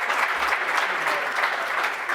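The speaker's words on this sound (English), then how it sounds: "I'd like you to give the working group, our attorneys, a round of applause as well" Steady applause from a conference audience at a university agricultural and environmental law event, a dense continuous wash of clapping that fills the whole moment with no voices on top.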